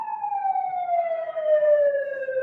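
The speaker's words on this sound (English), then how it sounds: "People are trying to get past this ambulance." A loud, steady siren wail with its pitch slowly falling, sounding close by.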